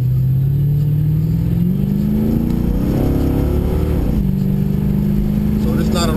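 An LT1 car accelerates hard in a street race against a 2012 300C, the engine note climbing steadily, dipping briefly at a shift, then rising again, loud and close from an onboard camera.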